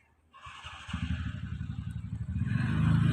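A motorcycle engine fires up nearby and settles into a throbbing idle that grows louder and rougher toward the end.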